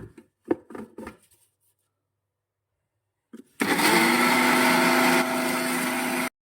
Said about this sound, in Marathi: आणि मिक्सर वरून दळून काढणार आहोत